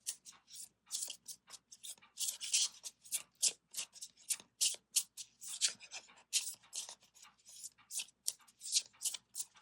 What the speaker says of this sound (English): get your yes or no question going, and I'll shuffle